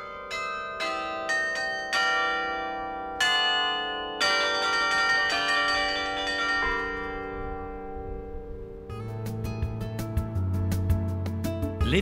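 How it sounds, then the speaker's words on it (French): Belfry bells in a town in Hauts-de-France ring out loud and resonant, overlapping strikes building into a layered peal with long ringing decays, a deeper bell joining near the end, no voices. "les cloches vont tout sonner dans la cité"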